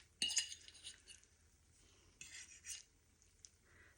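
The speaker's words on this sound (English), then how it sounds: "let's cut it in two so you can see inside of it" Metal knife and fork scraping and clinking on a plate while an egg omelette with melted cheese is cut in two, faint and close, with a few sharper clinks.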